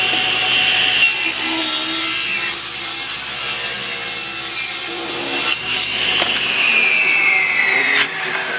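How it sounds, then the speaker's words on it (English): Table saw ripping a glued-up wood panel to width, a loud continuous whine of the blade biting through the board, pitch shifting as the cut progresses, with a sharp break near the end and no speech. "so I can go to the table saw and cut it 8 inches wide."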